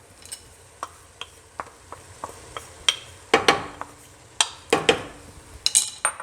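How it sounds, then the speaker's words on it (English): Garlic and spices go into a hot pot of sweet potato chili. A spoon clinks and scrapes against the pot in a series of sharp strikes while faint sizzling runs underneath. "Gonna add the garlic."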